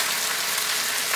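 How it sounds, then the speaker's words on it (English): Slices of scrapple fry in a hot pan, giving a steady, dense hiss of sizzling fat throughout with no talking. "you want to fry it up crispy"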